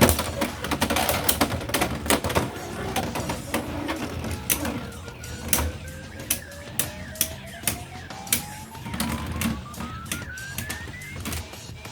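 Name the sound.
Beyblade tops spinning and clashing in a battle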